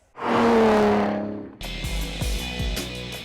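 A Pagani Zonda S supercar with an AMG Mercedes V12 engine roars past up close with a rising howl, then settles into a deep, loud burble punctuated by sharp throttle blips.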